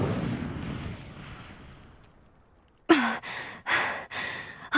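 An Incendio fire spell cast in Hogwarts Legacy: a fading rush of noise gives way to near silence, then a sharp whooshing burst followed by several roaring flame pulses in quick succession.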